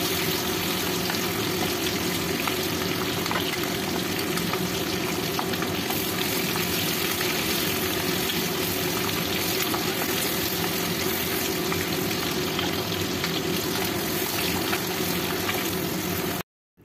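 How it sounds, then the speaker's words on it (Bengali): Continuous dense sizzle of eggs lightly frying in hot oil for egg korma, loud and even throughout with no pauses, cutting off abruptly at the end. "একদম হালকা করে ডিমগুলোকে ভেজে নিয়েছি, এখন তেল থেকে তুলে নিচ্ছি"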